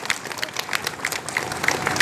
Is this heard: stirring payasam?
no